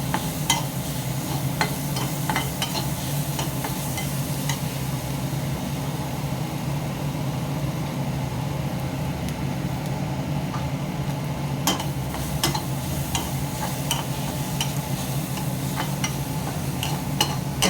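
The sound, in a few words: stir-frying pharasbi (green beans) in a pan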